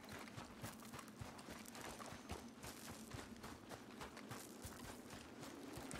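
Horse hooves clip-clopping in Red Dead Redemption 2, a steady quick rhythm of soft thuds throughout, fairly faint and with no talking.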